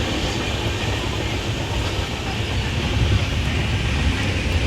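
A crowded train rumbles steadily throughout, a dense low roar with a faint rhythmic clatter of wheels, close and continuous with no voices, near Hubli railway station.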